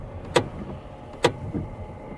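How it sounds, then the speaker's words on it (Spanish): A car's rear door is opened on a snowy roadside: two sharp metallic clicks of the latch about a second apart, each with a faint rattle after, quiet and close, no voices. "al tiempo que el hombre abría la portezuela de atrás"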